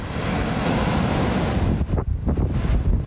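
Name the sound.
big waves crashing at Fugang fishing harbor in wind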